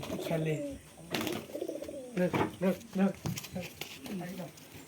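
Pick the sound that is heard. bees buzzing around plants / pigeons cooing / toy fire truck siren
pigeons cooing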